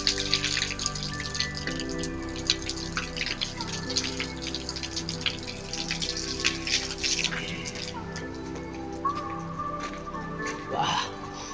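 Tap water runs steadily at a temple, a continuous splashing hiss with faint tonal hum behind it, fairly close.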